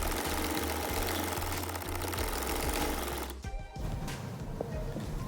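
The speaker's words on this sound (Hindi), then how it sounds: "अब मैं जो इसकी फिटिंग की सिलाई है मैं वो लगाऊँ।" An electric sewing machine hums and chatters in a steady, loud run while stitching the fitting seam of ladies' trousers, then stops abruptly, leaving a faint clatter of fabric handling.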